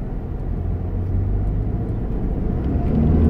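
A vehicle engine revs during a launch test, a steady low rumble that holds close and loud and swells slightly near the end, with no voices.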